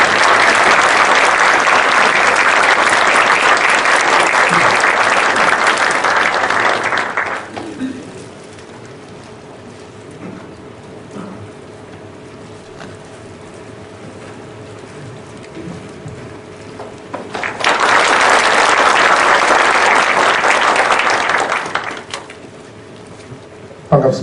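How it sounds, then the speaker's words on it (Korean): Audience applause greets a lecturer arriving for a public humanities lecture at a courthouse, a loud sustained burst that stops, falls to a quiet room, then swells again in a second full round before fading. "귀한 시간 내셔서 좋은 강의를 해주실 이수정 교수님을 뜨거운 박수로 맞이해 주십시오"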